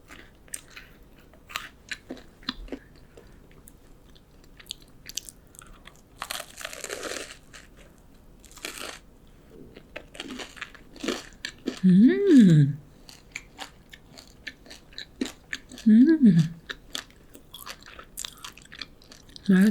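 Close, crisp crunching and crinkly bites of a fig financier with a crisp outside, irregular and intermittent, with a couple of brief murmured vocal sounds.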